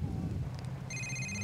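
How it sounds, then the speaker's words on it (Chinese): A mobile phone in the video game GTA IV starts ringing partway through, an electronic ringtone of stacked steady tones that sits over a low rumbling game background, with no talking. "边个打电话嚟啊？"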